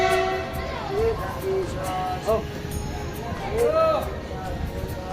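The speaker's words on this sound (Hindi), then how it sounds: "तो ये हमारी ट्रेन है।" An Indian local train rumbles steadily under clacking with a few short tonal horn-like whines; voices talk over it.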